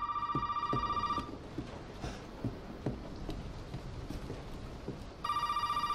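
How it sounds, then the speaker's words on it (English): In Resident Evil 7 Biohazard, a telephone rings with a bright electronic trill in two bursts at the start and end, separated by quiet footsteps and soft knocks in between. "the phone is ringing."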